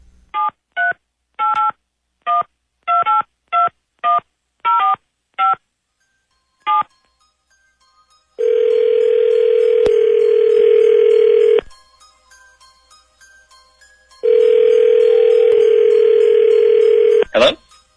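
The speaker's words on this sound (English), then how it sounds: "Let me get you your dial tone." A telephone line gives a rapid run of DTMF keypad beeps, about a dozen short even tones, then after a pause a loud steady dial tone that stops and comes back later, with no talk over it.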